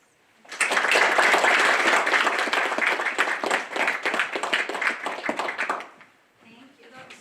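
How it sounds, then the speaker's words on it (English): An audience at a school district board meeting breaks into a round of applause for a staff member, close, crisp clapping that swells quickly, holds for about five seconds and stops abruptly, followed by a brief voice. "we can give her a round of applause"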